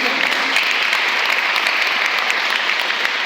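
A church congregation applauds during a sermon, a steady, dense wash of many hands clapping at once that holds evenly from start to finish without pause.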